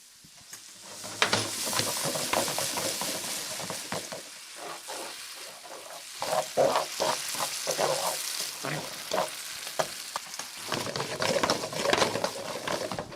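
Cacio e pepe frying loudly in a pan while being stirred, a dense crackling sizzle with scraping bursts that rise and fall in waves, close and continuous.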